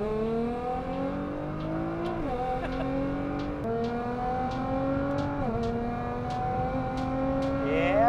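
A 2011 Nissan GT-R runs steadily at close range, its engine note climbing through gears in smooth revving sweeps with brief dips at each shift, loud and continuous with no talking.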